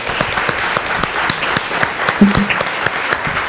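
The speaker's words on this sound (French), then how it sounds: "Je pense qu'une bonne main d'applaudissement" Attendees at a managers' panel discussion clap loudly and steadily, a close, sustained round of applause with a few sharper individual claps and a faint voice underneath.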